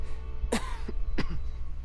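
Coughing from a character in a video game, two sharp, harsh coughs spaced less than a second apart, close and distinct over a low background hum.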